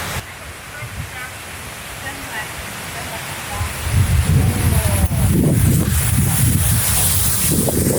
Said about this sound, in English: that waterfall to swim in.